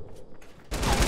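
Gunshots in Fortnite erupt abruptly after a quiet moment, a loud close burst of rapid fire filling the last half second with no voices.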